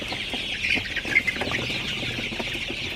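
Several Sonali hybrid chickens cluck and murmur close by, their soft, overlapping calls continuing steadily against a faint background.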